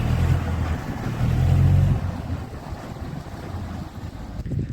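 A large boat pulls away on a Sundarban river, its low engine rumble swelling then easing under steady wind noise and water wash, close by with no talk.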